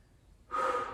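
A single loud, noisy breath pushed out during a yoga HIIT workout bursts in halfway through after near silence and holds steady to the end, with no talking.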